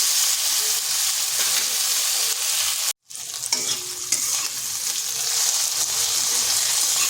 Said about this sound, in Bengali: মিডিয়াম আছে 5 থেকে 6 মিনিট এইভাবে নেড়ে চেড়ে ভেজে নিচ্ছি